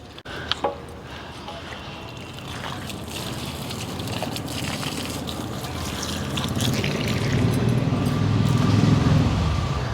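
Neem oil and egg solution poured onto plants along a garden row, a continuous close splashing and trickling of liquid that swells toward the end, with no voices.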